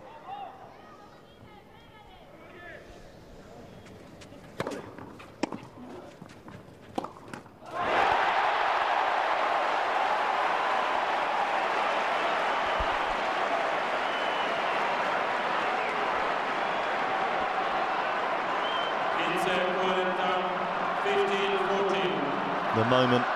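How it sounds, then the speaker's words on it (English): A tennis crowd at the 2009 Madrid final between Federer and Nadal breaks into loud, sustained cheering and applause after scattered claps and shouts, with voices rising within the roar. "Just listen to that crowd."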